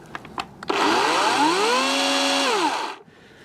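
Toro Flex Force electric chainsaw revving up from idle to a loud, high motor whine, holding steady for a couple of seconds, then winding down, close and alone.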